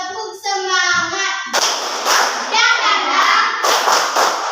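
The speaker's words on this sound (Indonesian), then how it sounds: "Tepuk semangat." Group rhythmic spirit clapping at a Catholic school gathering, with many hands clapping in quick patterned bursts, close and loud, following a child's sung or called-out melodic lead at the start.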